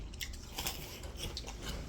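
Someone bites into and chews an apple that is slightly soft rather than fully crisp. The moist, crunching chews are close but faint, and no one speaks.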